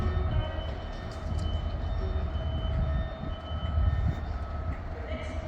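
At Stockport station a Network Rail worker train grinds past, its deep rumble joined by sustained tonal whines from the engine, loud and continuous throughout.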